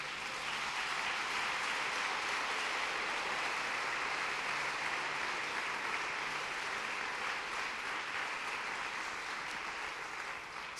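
Sustained applause from a church congregation, offered as praise to the Lord, fills the room as a steady, dense wash of clapping that holds evenly throughout without speech.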